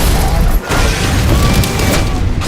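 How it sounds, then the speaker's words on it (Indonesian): Loud, continuous explosions and heavy blasts fill the scene as a fighter jet attacks a truck on a highway in the action film Die Hard 4, a dense roar of destruction with a brief dip partway through. "jet tempur pun langsung menemukan truk yang dikendarai John dan serangan dikerahkan hingga membuat banyak ledakan di sana."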